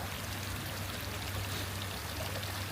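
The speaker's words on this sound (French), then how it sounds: "Oh mais il y a une magnifique fontaine" A water fountain beside a sculpture of water drops splashes in a steady, broadband wash of falling water, continuous and fairly close, with no pauses.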